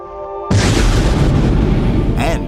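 A large explosion booms loud and close from about half a second in, its roar filling the rest of the short stretch with no speech.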